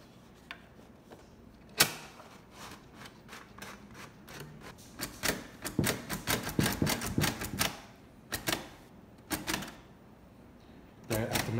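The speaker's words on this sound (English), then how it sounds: "test out this Braille typewriter" A Perkins Brailler braille typewriter is typed on, sharp mechanical key strikes and clacks coming in irregular bursts, sometimes in quick runs, sometimes single, with short pauses between, close and fairly loud.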